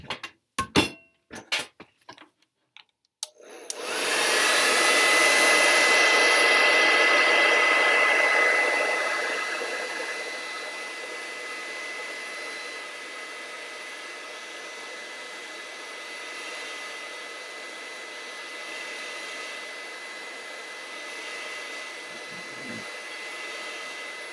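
A hair dryer blows on a wet watercolor painting of the Milky Way, a few clicks and taps first, then a loud steady whoosh that eases to a lower, constant roar and runs on alone.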